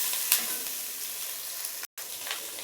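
Ingredients sizzle steadily in an oiled pan while being fried for a herb mash, a bright continuous crackle with a brief stir near the start and a momentary cutout near the end.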